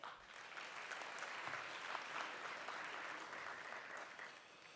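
A graduation audience at a nursing college ceremony applauds a faculty member being recognized, steady even clapping heard at a distance and fairly faint throughout.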